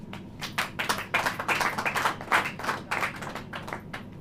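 A church congregation claps hands in rhythm during a Hindi sermon, a brisk, steady series of sharp, fairly loud claps repeated for several seconds, with no talking over them.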